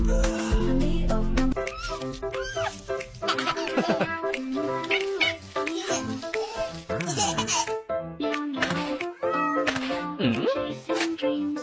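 Repeated cat-like meows, apparently sung by a voice imitating a cat, over steady melodic music. They come in rhythmic runs that fill the whole stretch at moderate loudness.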